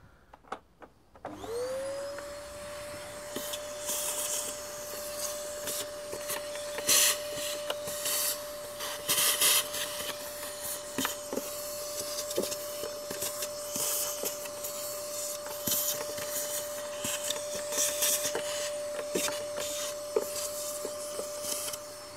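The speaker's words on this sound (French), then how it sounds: "ma canne aspirante que je fixe sur l'aspirateur" A vacuum cleaner with a suction wand starts up and runs with a steady high whine while the nozzle scrapes and knocks against surfaces inside a Seat Ibiza.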